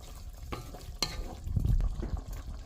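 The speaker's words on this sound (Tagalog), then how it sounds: "So, haluin po natin." Pork adobo with oyster sauce being stirred in a pan, with a couple of scraping utensil strokes and a short burst of louder stirring and sizzle partway through.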